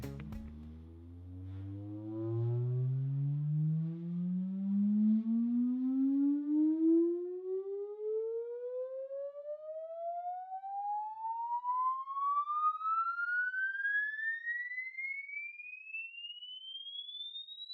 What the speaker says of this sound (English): I'm kind of scared to max this out and do a frequency sweep